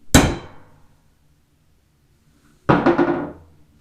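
Two separate metallic clangs from striking a Harbor Freight Doyle screwdriver, each a loud close hit with a ringing tail that fades out, with a long silent pause in between.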